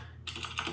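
A few quick keystrokes on a computer keyboard while code is entered for a game programming session, soft close clicks in a short burst with no talk.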